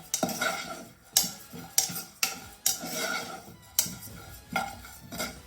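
Cumin seeds roasting in a dry pan, stirred with a spatula that scrapes and clanks against the metal in repeated sharp strokes about every second, each followed by a soft rustling hiss of the seeds, close and fairly loud.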